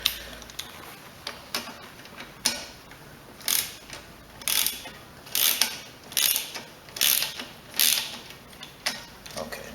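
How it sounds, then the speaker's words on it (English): A ratcheting wrench loosens a bolt on the carburetor of a Husqvarna 725 EX mower with a 190 cc Briggs & Stratton engine. Close, rhythmic clicking pulls repeat at a steady pace with short pauses between strokes. "Still need the power of the wrench."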